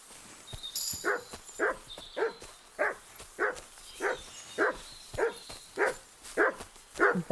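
A dog barks in Kingdom Come Deliverance 2, a steady run of about a dozen evenly spaced, fairly close barks with no speech.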